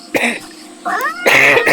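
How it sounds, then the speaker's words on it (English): A couple of short, rough coughs from a person with a cold break out close up, with a wheezy, voiced rasp between them. "Sorry for the coughing, I do have a bit of a cold."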